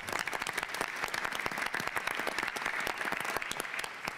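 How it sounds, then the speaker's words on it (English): A crowd at a New York City Housing Authority development event applauds the NYCHA employees, a busy, continuous patter of many hands with sharp individual claps poking through, steady throughout and free of speech. "Give them a round of applause"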